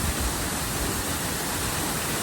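Waterfall at San Felipe, Zambales: a steady, dense broadband rush of falling water, close and loud, continuous without pause and no voices.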